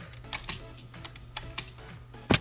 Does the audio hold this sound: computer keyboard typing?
yes